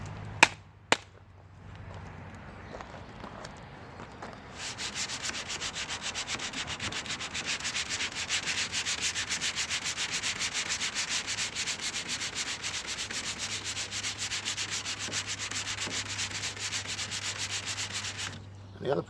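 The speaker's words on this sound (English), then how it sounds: "Let the sandpaper do its work for you." Sandpaper rubbing steadily over painted bodywork on a 1957 Chevy, a continuous rhythmic scratchy hiss lasting most of the stretch after a few faint knocks, close and even in level with no talking.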